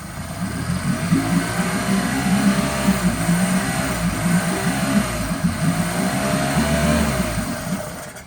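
A Yamaha F9.9 outboard motor runs steadily with a throbbing, uneven rumble while being fogged for winterizing, loud and close, without stalling or stopping.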